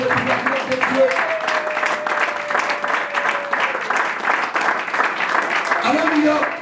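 A church congregation applauds and cheers together, a dense sustained wash of clapping with a voice ringing out over it, continuing steadily throughout.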